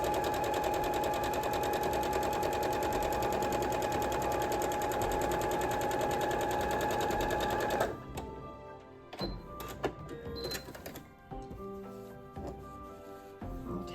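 Rapid, steady whir and needle chatter of a sewing machine stitching quilt block pieces, loud and continuous for about eight seconds, then stopping and giving way to quieter handling clicks and rustles.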